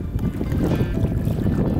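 Rough White Sea water near Kandalaksha slaps around a kayak paddling into a headwind, with whitecaps on the waves; a continuous low roar of wind buffeting and sloshing water fills the whole stretch, with no voices.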